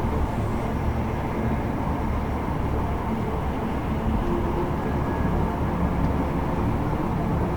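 Train ride in the video game Deus Ex: Mankind Divided, a steady, loud rumbling rattle of the moving carriage, continuous and unbroken, with no voices.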